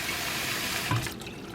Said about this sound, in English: I like to rinse my rice real good.